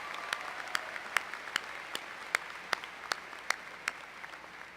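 Sparse, evenly spaced single claps ring out at a university commencement ceremony, about a dozen distinct hand claps in a steady rhythm over a quiet room, somewhat distant.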